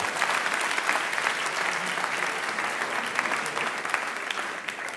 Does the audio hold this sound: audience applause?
yes